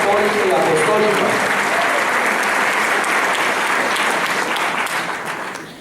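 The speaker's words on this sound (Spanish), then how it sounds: "Eso, un aplauso para nuestra Iglesia, que sigue siendo una santa, católica y apostólica." A church congregation breaks into sustained applause, loud and steady, with a few voices mingled in at the start, tapering off slightly toward the end.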